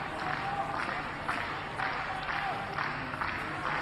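A hometown Shenzhen crowd applauds at a wrestling show, a steady wash of clapping and crowd noise heard from a distance, with faint voices over it.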